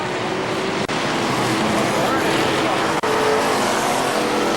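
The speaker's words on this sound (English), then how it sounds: "And now, Danny Suffren will win it in the 28 car" Legends race cars roar continuously around KilKare Speedway on the final lap, a loud, dense engine drone with no clear gaps, while an announcer's voice calls over the sound.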